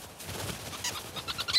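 A rosy-faced lovebird calls in the Kalahari, faint repeated chirps rising over a soft, breezy background, with no voices nearby.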